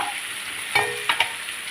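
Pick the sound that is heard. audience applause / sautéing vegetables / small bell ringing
sautéing vegetables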